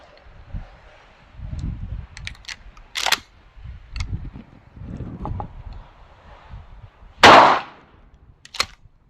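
A Thai Arms cartridge is fired at a bench, giving one sharp, loud report, with softer handling clicks and knocks before and a single crisp click after.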